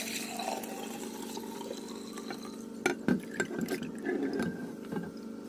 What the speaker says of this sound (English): I just pour it straight in.